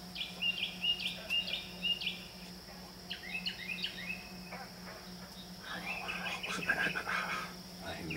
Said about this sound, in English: I've never heard a bird do like this.